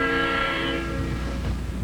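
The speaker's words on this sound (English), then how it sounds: "Train number 1 is now making up the lost time, and yet still keeping within the speed limit of 100 miles an hour for this stretch of track." A passenger train running along the track near its 100 mph limit, a steady loud rumble of wheels with a sustained horn-like tone fading over the first second.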